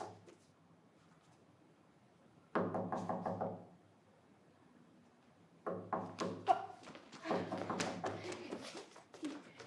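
Knocking on a wooden door, two bursts of several firm raps separated by a quiet pause, fairly close and dry with no voices over it.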